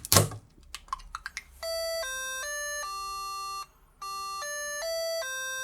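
The Big Ben chime melody played as electronic beeps from a LEGO SPIKE hub speaker, a sequence of clean sustained tones stepping up and down. It opens with a few clicks and taps of handling before the tune starts.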